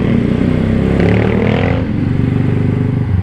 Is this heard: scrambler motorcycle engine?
yes